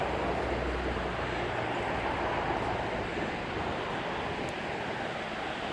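A steady outdoor wind roars during a cold autumn storm in New York, a constant broadband rush with buffeting at the microphone and no pauses.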